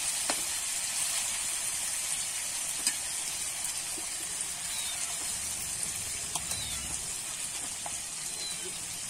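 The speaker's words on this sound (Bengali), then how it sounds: "এইভাবে নাড়িয়ে চাড়িয়ে একটু ভাজা ভাজা করে নেবো" Chicken and vegetables fry in a pan with a steady, close sizzle and hiss throughout, with occasional faint clicks of stirring.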